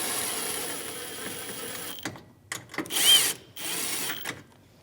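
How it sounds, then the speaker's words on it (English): A ratchet on a 10mm socket clicks in short bursts, snugging bumper bracket bolts on a Chevrolet Malibu, with quiet pauses between the close, sharp runs of clicks. "Start them by hand, and then we'll just snug them down and get the torque specs."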